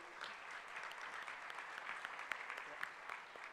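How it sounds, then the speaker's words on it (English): Soft, distant applause from the audience at a university foundation day awards ceremony, a steady wash of clapping with a few sharper individual claps standing out. "let's have a big round of applause again"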